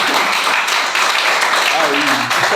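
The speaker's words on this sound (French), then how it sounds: "on peut applaudir pour Elisio" Crowd at a church gathering applauding warmly, dense continuous clapping that runs for a couple of seconds with voices mixed in.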